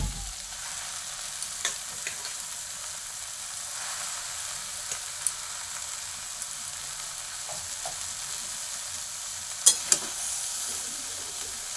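Potatoes frying in a pan for kalai shaker chachchari, a steady quiet sizzle with a few sharp clicks of them being pressed down, close and without speech.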